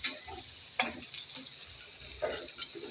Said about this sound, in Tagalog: ginisa yung kukrom with kamatis